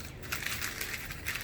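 Newspaper crumpled by hand for a paper mache form, giving a steady stretch of close, dry crinkling and crackling with no voices.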